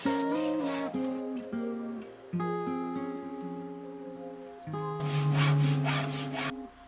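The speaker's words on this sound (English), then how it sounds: "I'm only using a hacksaw as it was the only saw I could find that day" A hacksaw cuts through bamboo with rhythmic back-and-forth strokes, close by, with raspy bursts and squealing tonal scrapes as the blade works.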